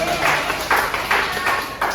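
A classroom audience gives a short burst of applause for a student group. The clapping comes in uneven pulses over about two seconds, with the voice of the speaker in the room mixed in.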